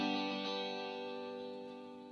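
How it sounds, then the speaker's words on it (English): A sustained reverb tail rings out at the end of a melody, a dense, steady wash of tones that slowly fades, faint and alone with no voices. "that little reverb at the end is a really nice part to be able to transition from one section to the other"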